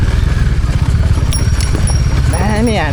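A Bajaj Dominar 400 motorcycle rides off-road on a dirt trail near Pokhara, its engine a loud steady low rumble throughout, with a voice speaking over it near the end.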